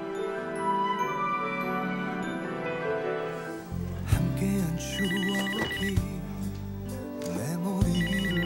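A home telephone rings repeatedly in a bright, patterned ringtone, first sparse and then louder and more insistent, set against dramatic background music with no speech over it.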